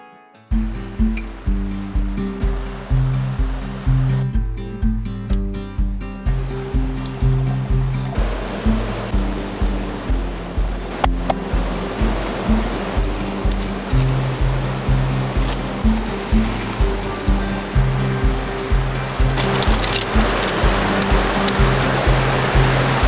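A river runs beside a campsite, its continuous rushing water close and steady under a pulsing, rhythmic thumping that repeats throughout.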